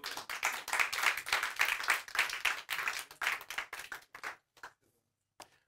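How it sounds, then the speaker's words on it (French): Conference audience claps for a volunteer called up on stage: a few seconds of brisk, dense applause that thins into scattered separate claps and then falls to near silence, with one last lone clap. "On peut l'applaudir."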